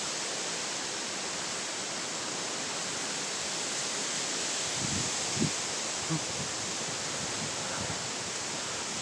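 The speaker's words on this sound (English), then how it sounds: "Here comes another gust." Wind gusting through trees outdoors, a steady broad rustle of leaves that holds throughout with no break, with a few faint knocks partway through.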